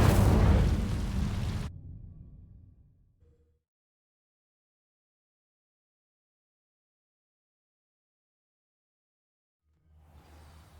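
An Incendio fire spell cast in Hogwarts Legacy bursts loud at the start as a fiery blast, then fades into a crackling tail over a few seconds, followed by near-silence and a faint return at the end.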